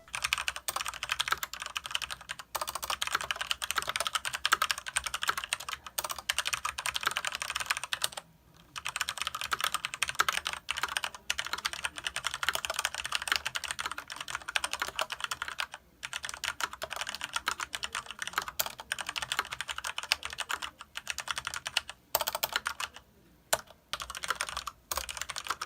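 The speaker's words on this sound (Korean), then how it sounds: "실버축의 타건음 들려드리도록 하겠습니다." Steady, continuous typing on a mechanical keyboard with Cherry MX Silver switches and low-profile keycaps, dense clicky-clacky keystrokes close up with brief pauses, no voices.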